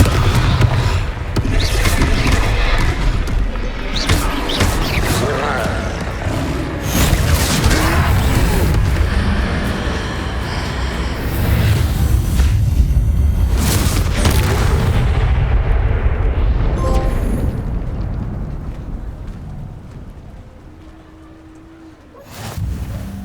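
Confringo spell blasts in Hogwarts Legacy go off as a series of booming, crashing explosions over a dense, loud battle roar, which thins out toward the end before a final hit.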